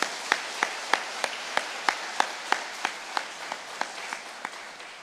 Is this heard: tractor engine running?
no